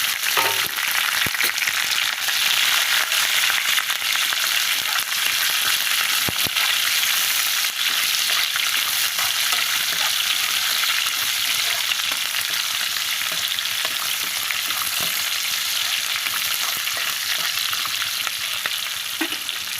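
Raw onion goes into hot seasoning oil for upma, giving a loud, continuous close-up sizzle with occasional stirring clicks and spatters that persists unbroken throughout.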